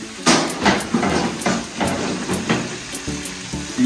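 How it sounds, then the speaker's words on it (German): Ox cheeks sear in a hot pan with a steady sizzle, broken by a series of knocks and scrapes at regular intervals, close and moderately loud. "wir haben die Bäckle jetzt scharf angebraten."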